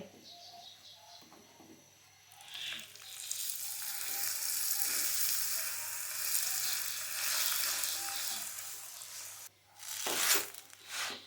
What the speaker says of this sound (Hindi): अब हम इसमें पराठे को डाल के तल लेंगे। घी और ऑयल लगाएंगे।